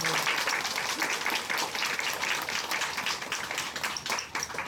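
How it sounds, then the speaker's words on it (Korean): A church congregation applauds during a Sunday worship service, with steady, dense clapping from many hands that fills the room and carries on for several seconds. "박수로 영광 돌리겠습니다."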